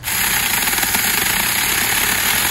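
Saker 4-inch mini chainsaw cutting through tough elm wood, a loud, steady high-pitched motor whine with a constant buzzing roar that runs without a break, close by and alone.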